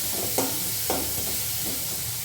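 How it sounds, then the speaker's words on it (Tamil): Chilli, curry leaves and ginger paste sauté in a pan for a spicy squid thokku, a steady close sizzle punctuated by two distinct scraping stirs and a softer third, with no talking. "அது கூட மிளகா, அது கூட இஞ்சி பேஸ்ட்டு எல்லாத்தையும் போட்டு நல்லா வதக்கிக்கலாம்"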